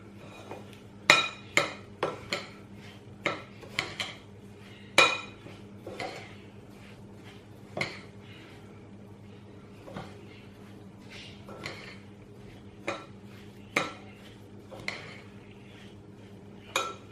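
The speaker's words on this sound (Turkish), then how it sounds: "Bu şekilde eze eze bütün malzemeleri birbirine yedireceğiz." A utensil clinks and scrapes against a bowl in irregular knocks and taps while kısır ingredients are mashed and mixed together, close by over a low steady background hum.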